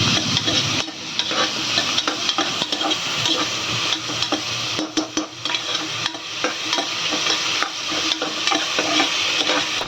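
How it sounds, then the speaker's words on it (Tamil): Green chillies and beans frying in a pan with tomato, a loud continuous sizzle and hiss close up, broken by repeated scraping strokes of a spoon stirring the mixture. "2 பச்சை மிளகாய், பீன்ஸ் இதெல்லாம் போட்டு நல்லாவே கிண்டி விட்டுக்கோங்க."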